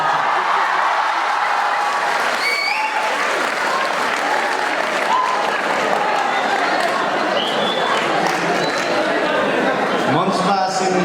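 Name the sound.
audience applause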